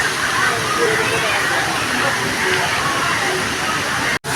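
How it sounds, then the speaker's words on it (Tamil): Rushing water at Tiruppur falls during rain, a loud, continuous broadband roar heard up close, steady throughout with a brief dropout near the end. "இதாங்க நம்ம திருப்பூர் ஃபால்ஸ்."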